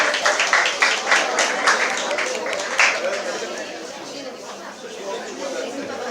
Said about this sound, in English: Students, can we have a round of applause for the participants as well